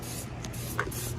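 Amsoil HD Heavy Duty Metal Protector undercoating sprayed from an aerosol onto a car's underside, a steady close hiss lasting about a second with faint clicks.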